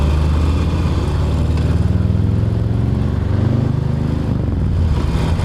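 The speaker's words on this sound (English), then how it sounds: "I feel like the tone on the Scrambler is a nicer tone. Listen to this." A Scrambler motorcycle engine runs close up with a steady, throaty exhaust note, its low pulsing tone rising and dipping slightly as the throttle is worked, with no voices over it.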